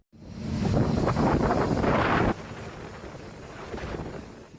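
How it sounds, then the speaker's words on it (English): Strong gusting wind from Cyclone Mal roars and buffets the microphone at night in Nadi, Fiji, then drops to a lower but still restless rush of wind. "It's the sound of Cyclone Mal at 11 p.m. on Tuesday, thrashing Nadi"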